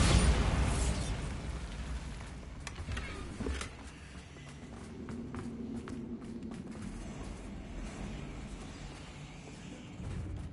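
Bombarda blasting spell going off in Hogwarts Legacy, a loud burst at the start that fades into a low rumbling tail, with a few softer thuds and footsteps after.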